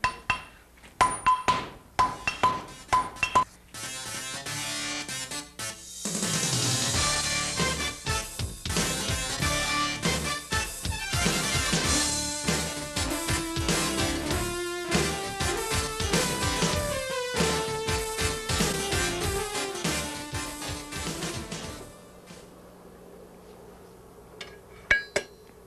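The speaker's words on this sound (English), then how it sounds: "I heat metal in this forge here and beat it over" Blacksmith hammering hot metal on an anvil at a forge: sharp, loud ringing metallic strikes in a quick irregular series, then a long dense stretch of clanging blows layered with tonal ringing that fades out near the end.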